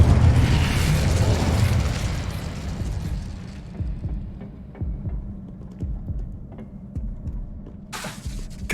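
Confringo spell explosions in Hogwarts Legacy, a loud booming blast at the start that fades into a rumbling tail with repeated softer low thuds and pops.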